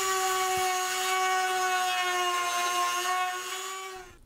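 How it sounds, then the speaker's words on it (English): Dremel rotary tool with a small sanding drum working a fiberglass fairing, a close, high-pitched steady whine with faint grinding texture, rising slightly then fading as it spins down, no speech. "I put a smaller drum on the Dremel just to get a smaller radius in the back."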